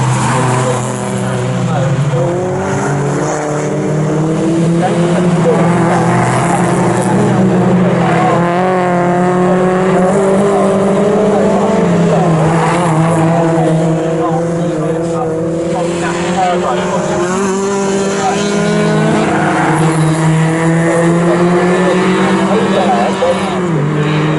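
MG Cup race cars at Snetterton circuit, engines droning steadily and loudly with rising and falling pitch as the pack runs through a corner, a commentator talking continuously over the racing.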